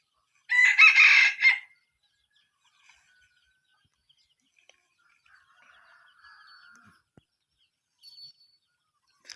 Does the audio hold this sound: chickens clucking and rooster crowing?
yes